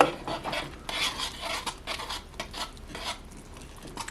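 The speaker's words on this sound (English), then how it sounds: "I'm supposed to add it all at once and I'm supposed to stir it immediately and keep stirring until a dough forms." A spoon works flour vigorously into cream puff dough in a metal pot, producing continuous close scraping and rubbing strokes with clinks against the pot, steady and fairly loud, with no speech.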